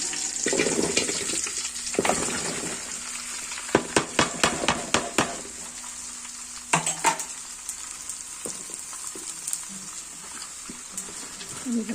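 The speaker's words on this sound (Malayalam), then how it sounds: "നല്ലപോലെ വഴറ്റിയെടുക്കും അതിൻ്റെ ഉള്ളി നല്ലതുപോലെ ഇതുപോലെ ഗോൾഡൻ കളറായി വരണം" Sliced onions frying in a pan for a chicken stew: a continuous sizzle broken by a run of sharp, rapid clanks and scrapes from stirring, then calmer frying with occasional knocks.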